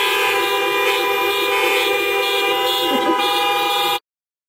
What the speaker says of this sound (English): Honk your horns to love Jesus